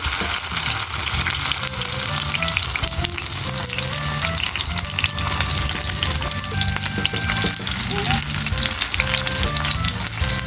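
Anchovy omelette (tortang bolinaw) frying in a pan, loud steady sizzling and crackling with oil popping throughout, close up and uninterrupted, no talk.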